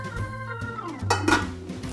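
A pot of washed rice set into a rice cooker while making Hungarian goulash, with close metallic clinks and a clunk of pot against cooker partway through.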